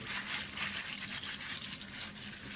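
Wheat grains rinsed in a strainer under running water, a steady soft gush and trickle that stays even and close throughout, with no talking.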